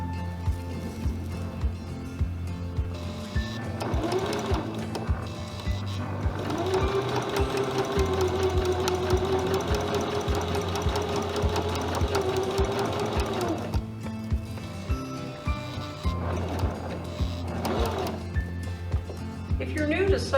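An electric sewing machine stitching a pocket shape around a fabric potholder piece, its steady fast whirring rhythm running continuously and fairly close, with someone talking over it.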